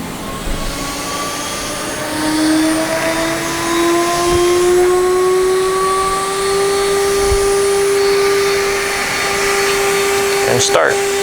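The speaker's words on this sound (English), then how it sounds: "Now first it's going to cut out the holes in the inner stuff." A CNC router spindle spins up with a steady, rising whine and a broad mechanical hum as it starts cutting holes in an electronics project box, continuous and fairly loud, with a short sharp knock near the end.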